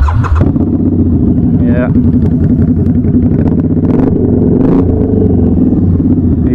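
A Harley-Davidson Night Rod motorcycle engine rumbling loud and close, with deep idle throb and a couple of revs, while someone says a brief word.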